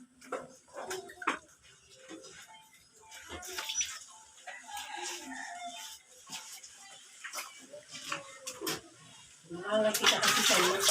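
Water splashing and running while a dog is bathed at home, with irregular sloshes and drips throughout and a louder rush of water near the end, under someone talking to the dog.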